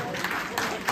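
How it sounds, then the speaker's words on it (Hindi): Audience applause at a Republic Day free health checkup event at a wellness centre, a short burst of dense clapping with crowd noise and some talk mixed in. "पप्पू भैया के लिए तो ताली बजा दो"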